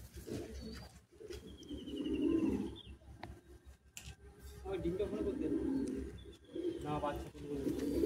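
Madrasi pigeons coo softly in a loft at Bagnan near Kolkata, low rolling coos repeating close by, with a faint chirp or two and a voice in the background.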